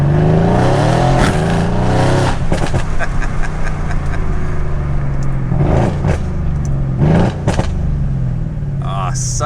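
A Mercedes C63 with a catless downpipe revs hard nearby, loud engine blips and crackling bursts rising and falling in repeated pulses, with a person talking in between.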